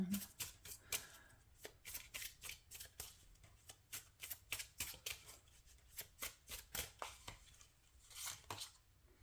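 Tarot cards shuffled by hand, a quick irregular run of crisp riffling snaps and slaps, close and fairly quiet, with a voice talking softly at times.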